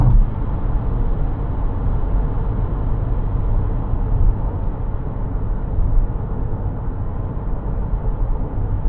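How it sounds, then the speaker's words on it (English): Cabin of a Geely Starray EM-i at highway speed around 130 km/h, filled with a loud, constant low roar of tire and wind noise with no talk. "I would say there's a lot of tire noise."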